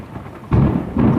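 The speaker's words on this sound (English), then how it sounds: "Rain, thunder, chime, fire, all in harmony." Low rumbling thunder swells in two rolling bursts over a steady hiss of rain, close and fairly loud.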